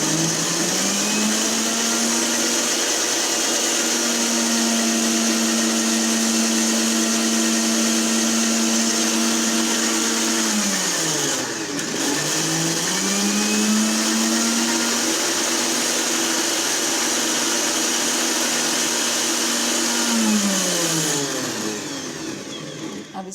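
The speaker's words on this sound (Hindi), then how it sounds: "इसको ब्लेंड कर लेते हैं।" A blender runs continuously and loudly up close, whirring a thick shawarma sauce paste. Its motor pitch dips and surges midway as the load shifts, and no one speaks.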